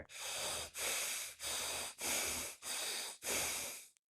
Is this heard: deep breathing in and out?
yes